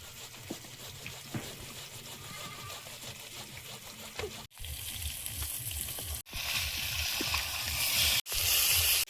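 Fish frying in hot oil in a home kitchen, a steady close sizzle and crackle that grows louder and brighter partway through, broken by a few short cuts, with no talking.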